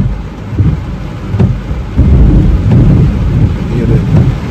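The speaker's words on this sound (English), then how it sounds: "Lightning has strike. Rain has fall." Heavy rain drums steadily on a car during a thunderstorm, with low thunder rumbles rolling underneath, loud and close inside the vehicle, no voices.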